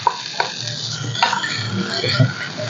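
Pounded garlic and five chilies are added to hot oil in a pan and stirred for a pork belly and shrimp paste stir-fry, with close scraping and clinking of utensil on pan over a soft sizzle.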